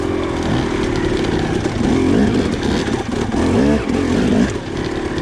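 A 2-stroke dirt bike with a stock carburetor rides in second gear, its engine buzzing loud and close with rising and falling revs and brief dips as the throttle shifts.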